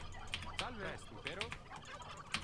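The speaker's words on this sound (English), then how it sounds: "the sound of those freaking turkeys" Turkeys in the video game Age of Empires II give several quick, warbling gobbles in a row. The calls are moderately loud and close, with faint clicking between them.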